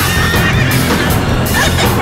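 A horse neighs loudly and close, a long whinny filling the whole moment over a dense, busy background.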